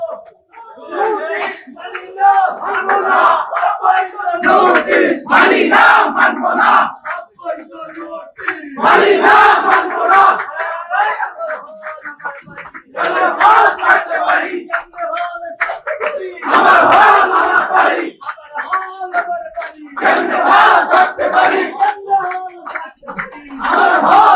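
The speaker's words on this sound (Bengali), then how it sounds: "শিক্ষার্থীরা স্লোগান দিচ্ছে আমার হল আমার বাড়ি" Students chanting protest slogans in unison during a hall residents' demonstration at Government Madrasah-e-Alia, Dhaka, the loud crowd voices rising and falling in repeated rhythmic bursts with brief pauses between chants.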